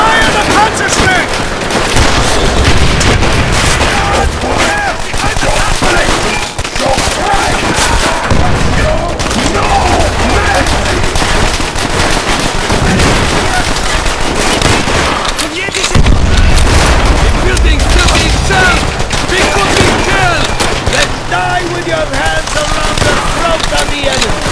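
Constant loud battle din in Call of Duty: World at War, with gunfire, cannon booms and explosions overlapping throughout and voices now and then.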